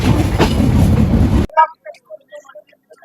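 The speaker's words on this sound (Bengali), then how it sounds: "আমাদের ট্রেন স্টার্ট করছে কোটচাঁদপুর স্টেশন।" Benapole Express train pulling out of Kotchandpur station in Bangladesh: a loud, dense rumble of the moving train for about a second and a half, then an abrupt drop to near quiet with scattered faint clicks and knocks.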